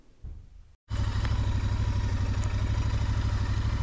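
A Royal Enfield motorcycle fires up after a short crank and settles into a loud, steady, thumping idle close by, its rhythmic single-cylinder beat running on without pause.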